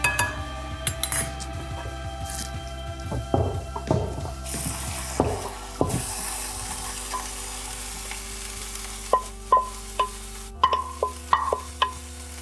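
Mince for a lasagna sizzles steadily in a frying pan while being stirred, with close scraping and occasional light clinks of a utensil against the pan, and no talking.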